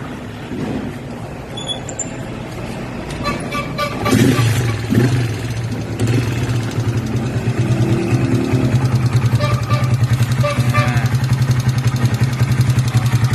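A repaired Honda Sonic 125 motorcycle engine runs steadily at idle, a close, continuous low mechanical drone with a worn rocker arm, rising slightly in intensity partway through and holding a rough, even throb to the end.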